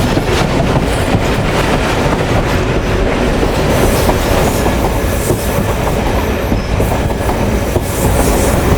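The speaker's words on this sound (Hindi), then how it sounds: "10:55 पर फाइनली ट्रेन हमारी अप्रोच बना रही है नवाबों के शहर यानी भावलपुर रेलवे स्टेशन पर" Tezgam passenger train rolling into Bahawalpur railway station in Pakistan, a loud continuous rumble with rhythmic clickety-clack of wheels over rail joints and occasional faint squeals, no voices.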